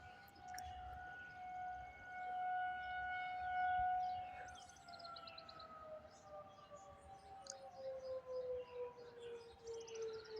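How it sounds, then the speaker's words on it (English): Civil defense sirens warn of approaching high winds, a long wailing outdoor tone that slowly rises and falls, heard from a distance over steady wind noise and faint bird calls. "Trying to get the sirens."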